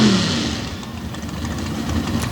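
An Outlaw Pro Stock drag racing car's engine rumbles at a drag strip in a short, loud burst that holds a dense, steady roar throughout without any clear speech.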